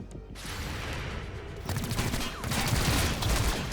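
Rapid bursts of gunfire and explosive booms from combat in the XCOM Chimera Squad video game, a dense continuous barrage that grows louder partway through, with a voice briefly heard over it.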